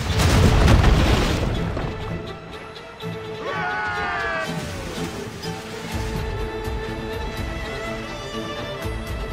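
Ship cannons on a sailing vessel in Assassin's Creed Rogue fire in a heavy opening boom that rolls away into ocean surf and creaking ship ambience, with crew shouting orders in the background.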